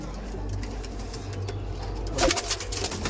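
Kalasabuj Kaldom pigeons cooing in a loft, with close, soft, throaty coos over a low background hum and a brief flurry of louder rustling near the end.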